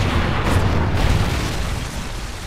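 A Trinity rocket strike slams down in a multiplayer shooter game, a loud, deep, rumbling blast that rolls on and slowly fades over a couple of seconds.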